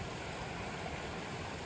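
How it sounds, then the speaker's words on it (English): Small waterfall in a British Columbia provincial park, a steady broadband rush of falling water, continuous and even, heard alone without voices. "There's like a little waterfall here."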